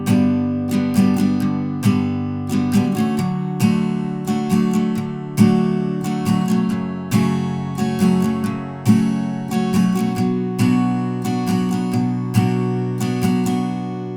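Acoustic guitar strums the chorus chords of a song in a steady, repeating two-pattern rhythm, loud, close and sustained with crisp strokes and no voices.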